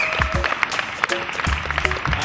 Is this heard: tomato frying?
no